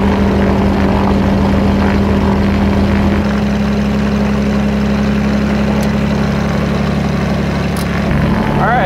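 A twin-engine propeller aircraft sits idling loud and close while warming up, a steady droning hum that shifts pitch slightly a few seconds in.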